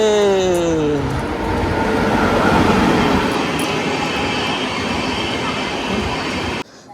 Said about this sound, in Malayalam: ആ ട്രെയിൻ കണ്ടോ